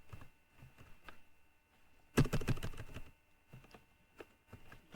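Typing on a computer keyboard, scattered soft key taps followed by a quick loud burst of rapid clicking, then sparse taps again.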